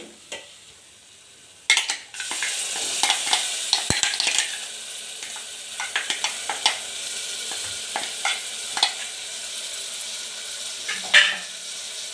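Spices for pepper rasam fry in hot oil with a close, continuous sizzling hiss, broken by irregular scraping and tapping strokes of a spoon stirring in the pan.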